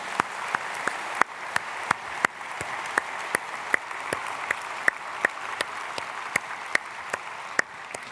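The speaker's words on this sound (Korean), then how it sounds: "우리 박수로 축복하겠습니다." A church congregation applauds steadily, a dense patter of clapping punctuated by regular sharp claps, moderate in level with no speech.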